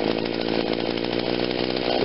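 A small two-stroke engine on an Echo SRM2100 string trimmer idles at a steady, even buzz, close by and fairly loud, holding a constant pitch throughout with no revving.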